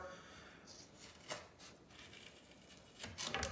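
Scissors trimming tape on a hockey stick: faint snipping and rubbing sounds, a few short crisp cuts spread across a few seconds, close by and quiet.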